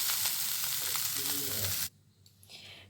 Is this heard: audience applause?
no